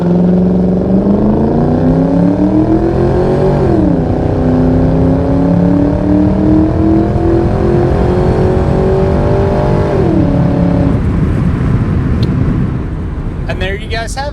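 A 2003 Ford Mustang Mach 1 accelerates hard from a dead stop with traction control off, the engine climbing through several gears with clear upshift drops, loud from inside the car.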